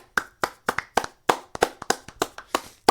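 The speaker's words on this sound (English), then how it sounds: "Come on, clap your hands, y'all." Hands clap in a steady, sharp rhythm, about a dozen crisp claps in three seconds at close range, with no talking over them.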